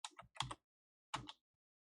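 Quick, quiet clicks of a computer keyboard come in two short bursts of typing, with a pause between them in an otherwise silent room.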